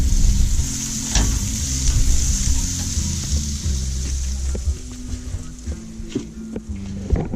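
Butter sizzles steadily in a pan for pancakes, cooked in an iron truck camper chuck wagon kitchen, with a constant loud frying hiss, low rumbling underneath and a few scraping clicks throughout.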